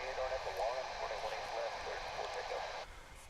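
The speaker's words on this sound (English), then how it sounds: "what I believe is American Flight 2128, an Airbus A321, a minibus on its way to Austin, Texas." An American Airlines Airbus A321 at DFW airport, a distant airliner whine and engine drone behind a close voice talking, fading slightly near the end.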